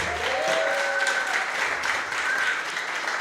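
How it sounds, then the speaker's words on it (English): Applause from an event audience, a steady wash of claps filling the room with a few faint cheers or whistles riding on top, with no speech heard. "Everyone give him a round of applause real quick."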